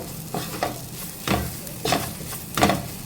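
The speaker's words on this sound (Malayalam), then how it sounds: "അതും കൂടിയിട്ട് മിക്സ് ചെയ്തു" Chicken curry with coriander powder being stirred in a pan, four distinct scraping strokes of a spoon against the metal over a low, steady sizzle.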